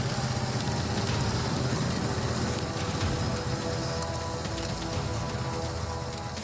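A rescue helicopter waits near a farm, its rotor and engine making a loud, steady, continuous roar and whine that fills the scene, with faint voices beneath.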